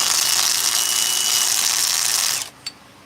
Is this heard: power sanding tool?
yes